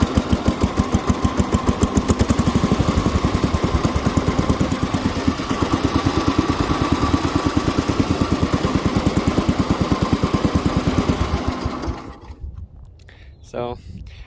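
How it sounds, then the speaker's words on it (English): A 1968 Sears SS12 garden tractor engine runs close by with a loud, steady, rapid chugging idle, then shuts down and leaves brief quieter clicks and shuffling. "But I'll start this one for you too."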